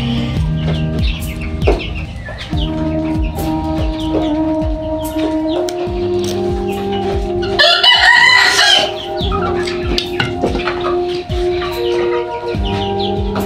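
Egyptian Fayoumi chickens on a small poultry farm cluck and call continuously, with a rooster crowing loudly midway, a busy close chorus over a low steady background hum.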